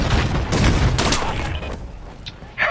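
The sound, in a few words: gunfire from video game Battlefield 6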